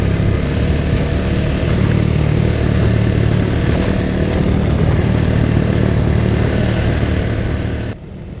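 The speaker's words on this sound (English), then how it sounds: "It was just jumping on the bikes and hitting the mountain roads" Motorcycles riding off-road mountain roads of loose asphalt and mud in Costa Rica, a loud, close, steady engine drone with rumbling wind buffeting throughout, dropping off sharply near the end.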